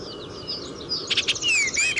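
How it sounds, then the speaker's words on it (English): Eastern bluebird song, a few soft warbled whistled phrases rising above steady background noise, with one clearer note near the end. "That's right, eastern bluebird."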